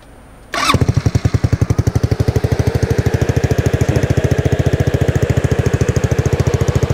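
A 250cc water-cooled go-kart engine on a single-seat kart fires up after a brief quiet moment and then runs loud and close, with a rapid, even, chugging idle that holds steady to the end.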